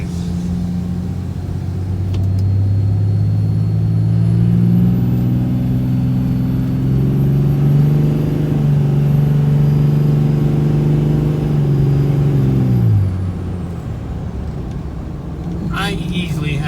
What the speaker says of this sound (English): Now my Dodge definitely has a lot more turbo noise.